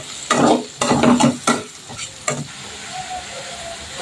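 Chopped onions with garlic and ginger paste stir-fried in a pan for chicken curry, loud close scraping strokes in quick bursts over a sizzle, then quieter frying, with no speech.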